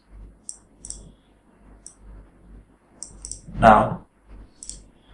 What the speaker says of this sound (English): Click once, click twice, right click